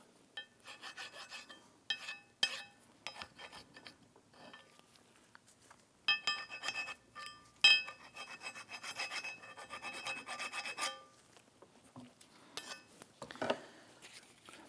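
Scrubbing rust off the brake caliper bracket of a 2009–2017 Volvo XC60, a close, faint rasping scrape of wire brush on metal in irregular strokes and bursts with brief pauses, no speech.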